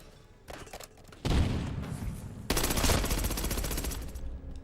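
Gunfire in the video game Call of Duty Rebirth, a few scattered shots followed by two loud sustained bursts of rapid automatic fire, close and harsh, with no talking.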